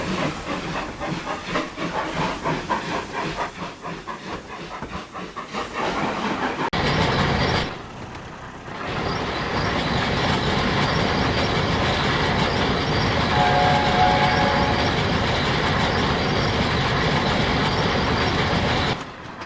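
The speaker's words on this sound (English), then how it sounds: "where they met William, who was taking the water at the station after coming back from the power station with a long coal train." A steam train hauling a long coal train, loud continuous hissing and rumbling, with a rhythmic chuffing at first, then a steady roar of steam and wheels close by.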